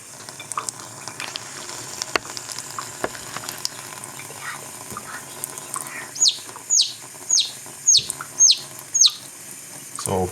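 Lukewarm water runs from a tap over a hen's soiled vent during pasty butt cleaning, a steady close trickle with a bird's repeated high chirps breaking in near the end.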